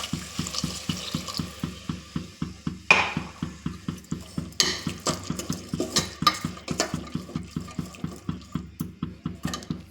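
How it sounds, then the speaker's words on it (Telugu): Water added to a pot of pigeon pea pods in a home kitchen, a pulsing pour with rhythmic gurgles and a few clanks of the pot, close and moderately quiet. "వాటర్ యాడ్ చేస్తున్నానండి."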